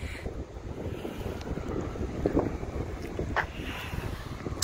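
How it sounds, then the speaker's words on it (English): Wind gusting outdoors at Lake Audubon in Reston, a steady rushing, buffeting noise across the microphone with a few brief louder gusts and no one speaking. "A little bit windy today, a little bit breezy"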